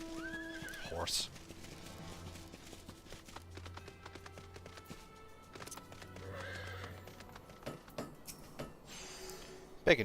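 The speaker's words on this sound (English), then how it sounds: "Horse." A horse neighs near the start in the fantasy MMORPG Final Fantasy XIV, with a rising whinny, then steady clip-clop of hooves and game music under it, and a few sharp effects later.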